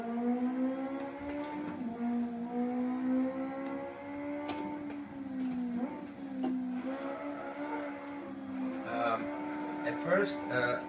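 A car lapping a track in the racing game Live for Speed, its engine whining in a steady harmonic tone that climbs and dips with gear changes, fairly quiet and continuous.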